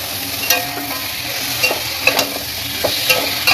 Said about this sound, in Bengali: খুব ভালো করে নেড়ে চেড়ে নিচ্ছি